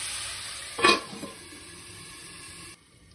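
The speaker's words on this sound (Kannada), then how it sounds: "ಹೀರೆಕಾಯಿ ಚೆನ್ನಾಗಿ ಎಣ್ಣೆಲಿ ಫ್ರೈ ಆಗಬೇಕು." Ridge gourd pieces fry in oil over low heat, a steady soft sizzle with one brief scraping stir, close and fairly quiet, with no talking.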